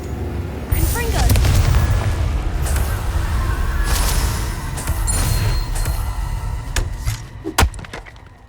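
The Confringo explosive spell goes off in Hogwarts Legacy with a loud, sustained rumbling boom and splintering, crackling debris, ending in a few sharper bangs, up close.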